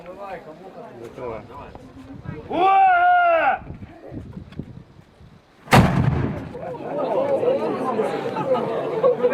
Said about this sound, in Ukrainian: на вашу честь залп з казацької гармати